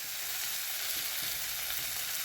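Ghee added to a banana flower curry in a hot pan brings a steady, close, dense sizzle that continues evenly throughout, with no voices.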